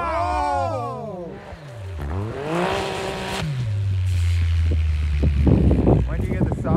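A Can-Am Maverick X3 side-by-side tearing through snow, its engine revving up and down in sweeping surges before settling into a loud steady drone, with people talking over it.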